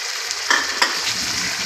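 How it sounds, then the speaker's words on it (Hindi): Beef pieces frying for karahi in two spoons of oil, a loud continuous sizzle with a couple of sharp stirring clatters against the pan. "अब माशाल्लाह से इसकी अच्छे तरीके से भुनाई कर लेनी है।"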